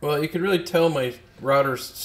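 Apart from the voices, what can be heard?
No everyday noise stands out behind the speech.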